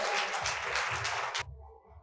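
An audience at a motivational talk breaks into a burst of applause, a full, close wash of clapping that cuts off abruptly partway through, leaving near silence.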